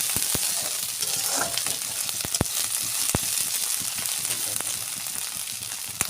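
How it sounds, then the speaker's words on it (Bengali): Chopped onion and chili frying on medium heat, a dense continuous sizzle up close with sharp spatula clicks and stirring scrapes throughout. "আগে থেকে কুচি করা পেঁয়াজ এবং মরিচ। এরপর মিডিয়াম আঁচে সবগুলো 1 মিনিট ভেজে নিব।"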